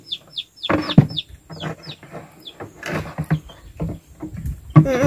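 Chickens cluck and cheep in quick short bursts near a rural trap site, close and lively, with rustling and handling noises mixed in.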